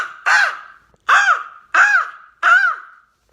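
A person imitates a crow with their voice, giving four loud, close, raspy caws at even intervals, each a short harsh burst with a falling tail, separated by brief silences.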